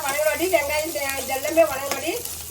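Onions fry in a pan with a continuous close sizzle, while a voice speaks over the cooking throughout.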